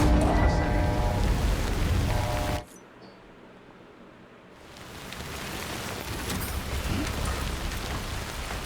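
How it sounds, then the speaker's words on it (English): Rain pours down in Death Stranding as a loud, dense hiss, cutting out abruptly for about two seconds before swelling back to a steady downpour. "Oh yeah, it rains quite a lot."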